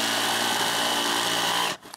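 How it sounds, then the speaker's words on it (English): Milwaukee reciprocating saw fitted with a Diablo blade cutting a wooden stair stringer, a loud, steady buzzing drone up close that stops abruptly near the end. "this Milwaukee recip jigsaw is awesome, and the Diablo blades,"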